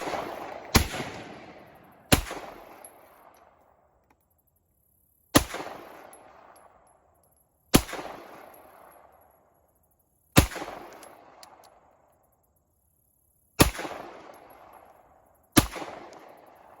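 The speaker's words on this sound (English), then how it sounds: "We're gonna do a little shooting." Single gunshots from a Belgian FN Browning pistol, a World War II German army issue, fired at an outdoor shooting range: seven sharp, loud reports spaced a couple of seconds apart, each trailing off in a short echo.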